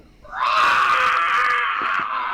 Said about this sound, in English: The dragon rears its head up and screeches.